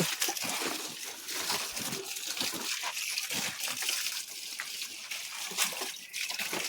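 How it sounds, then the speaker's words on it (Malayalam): Water poured onto plants produces a close trickle with intermittent splashes and sloshing, moderately loud and uneven throughout. "നമ്മൾ വെള്ളം ഒഴിക്കുവാണ്."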